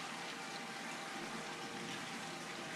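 Spring water at the Fountain of Youth in St. Augustine, Florida, pouring steadily into a cup: a continuous, even gushing hiss with no breaks, close and fairly full, with no talking over it.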